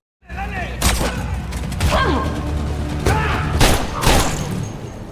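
Gunfire exchange in a Reacher series action scene: several sharp shots and bursts ring out at irregular intervals over a dense, rumbling soundtrack, loud and close with ricocheting tails.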